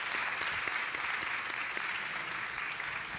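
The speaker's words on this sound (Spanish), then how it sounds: "Un aplauso." Steady clapping from the audience at a women's church congress, a continuous, even round of applause heard at moderate distance.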